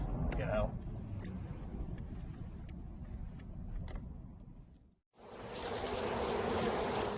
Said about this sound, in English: We probably got about 1 million bees over here.